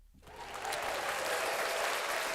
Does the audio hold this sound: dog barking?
no